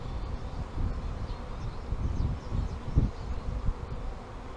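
Honey bees swarming around hive frames while loose comb is cleared, a dense, close buzzing drone that rises and falls with a few sharper handling bumps.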